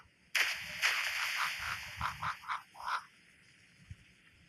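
Several short croaks sound near a pond, first a loud burst, then a rhythmic run of separate calls, with quiet between.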